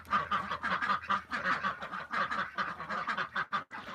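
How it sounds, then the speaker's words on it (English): Two domestic ducks, the breeding pair kept for hatching ducklings, quack steadily at close range in a dense, overlapping series of calls with no talking. "And there's my ducks."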